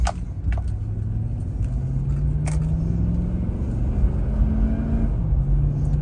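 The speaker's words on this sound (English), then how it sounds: "Nice acceleration. Engine sounds very smooth, no hesitation, no misfire" A 2008 Chevrolet Silverado 1500 pickup engine, at 253k miles, hums steadily and smoothly accelerates, its low drone slowly rising in pitch under continuous road rumble, with a couple of light clicks.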